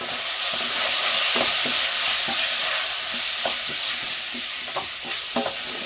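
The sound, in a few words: quick stir of ginger in a frying pan for chicken curry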